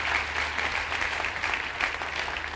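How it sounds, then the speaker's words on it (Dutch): A theater audience applauds steadily, a broad even wash of many hands clapping at moderate distance, sustained without pause and with no speech over it. "Geef er een applaus."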